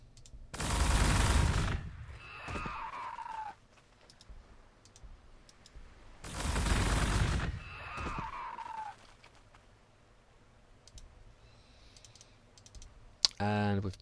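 Two loud broadband bursts of gunfire erupt a few seconds apart in the strategy game Warhammer 40,000: Gladius, each followed by a falling whine, with a short sharp blast near the end.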